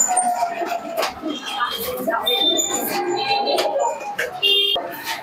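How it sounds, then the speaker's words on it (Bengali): Pigeons in a pigeon shop coo and flutter softly amid scattered chirps and shuffling, with someone talking over much of it. "দেখুন এই একটা কবুতর"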